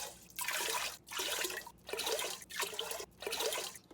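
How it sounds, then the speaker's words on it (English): Water poured from a cup into a pot of rinsed rice for congee, five separate splashing pours with short pauses between, close and clear with no talk. "now I'm going to add 9 cups of water"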